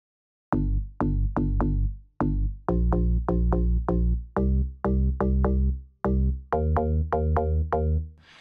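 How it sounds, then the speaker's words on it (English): Deep synth bass line from a dance-pop remix, a rhythmic vamped pattern of punchy notes in short bursts and phrases, loud and alone with no talking. "it's basically just like a vamped up version of the original bass line to go with"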